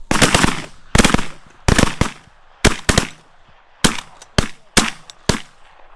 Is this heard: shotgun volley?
yes